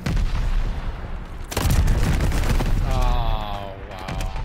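Rapid bursts of gunfire and booming explosions from the video game Call of Duty: Vanguard, loud and continuous, with a heavier volley erupting midway and an electronic tone sweeping late in the clip.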